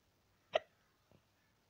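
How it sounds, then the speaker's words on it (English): A person hiccups twice: one sharp, fairly loud hiccup, then a softer, shorter one about half a second later, both alone against near silence. "my hiccups are so bad"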